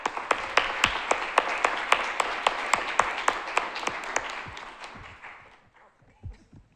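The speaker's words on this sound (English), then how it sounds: "I will ask you to give a round of applause to our speakers" An audience at a low-emission solutions conference applauds its speakers with steady, rhythmic clapping that holds evenly, then thins and fades out with a few last claps.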